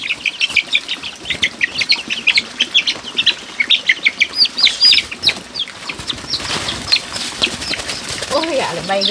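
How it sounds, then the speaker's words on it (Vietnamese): Young chickens flying fast around a farmyard, with rapid bursts of wing flapping mixed with clucks and bird calls, close and loud, while people talk over it. "Ôi gà lại bay ghê quá."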